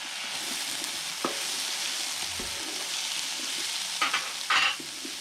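Prawns frying in a pan for nasi goreng, a steady close sizzle with a few sharper scrapes and clatters near the end.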